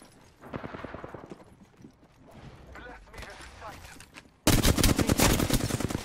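Apex Legends gunfire comes as rapid bursts of shots, first scattered and moderate, then a loud, dense volley of automatic fire in the last seconds, with a voice talking over parts of it.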